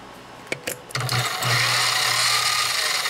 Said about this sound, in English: lower the milling bit as I go forward so I can clean that off evenly